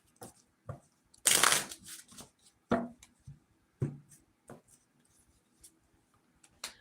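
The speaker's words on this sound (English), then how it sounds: "Let's get a couple of shuffles here." Tarot cards are shuffled by hand in a series of short, crisp riffling and tapping bursts, close and quiet, with one louder flurry near the start and brief pauses between handlings.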